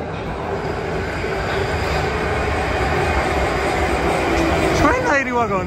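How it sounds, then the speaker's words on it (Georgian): A Prague metro train rumbles and hisses steadily as it runs along the track, a sustained mechanical roar with a rising whine toward the end. "ესეც მეტრო."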